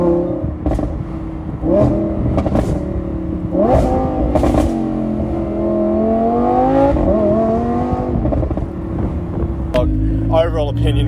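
A Liberty Walk wide-body Lamborghini Huracan revving its engine in repeated rising blips, each followed by crackles and pops on the overrun, loud and close with a voice speaking between revs.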